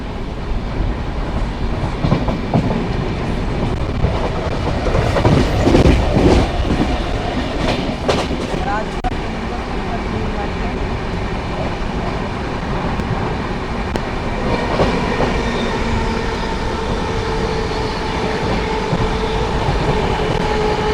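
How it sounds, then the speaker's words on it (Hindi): A train races at high speed through Rajpura railway station in Punjab, a loud steady roar with rhythmic clickety-clack of wheels over rail joints and brief metallic rattles, heard close from on board and continuous throughout with no speech. "बहुत ही तेज़ गति के साथ राजपुरा स्टेशन को स्किप करते हुए"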